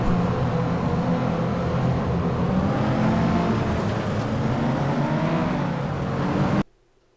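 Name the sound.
turbo race car engine, from FlatOut video game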